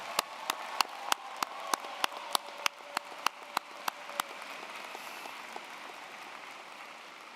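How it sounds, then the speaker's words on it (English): University of Illinois Chicago liberal arts and sciences graduates applaud at their spring commencement ceremony: faint, distant applause in a large hall, with a few crisp claps standing out in an even rhythm before the sound thins and fades. "Go ahead and give yourselves another round of applause."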